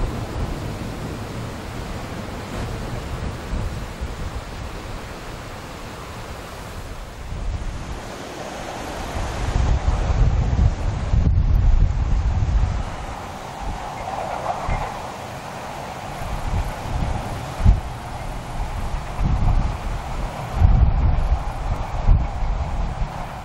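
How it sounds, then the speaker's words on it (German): Steady wind buffets the coast near the cliffs at Bollhagen on the Baltic, a broad rushing roar that swells in louder gusts toward the middle and end, with no voices. "Windig ist es im beschaulichen kleinen Bollhagen."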